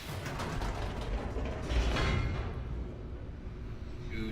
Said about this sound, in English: Ooh, elevator down.